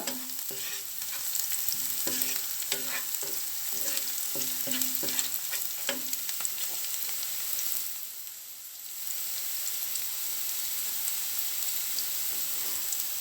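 Chopped onion fries in a pan with a steady, bright sizzle, broken early on by a few clacking scrapes of a spoon stirring, then a brief dip before the hiss continues evenly.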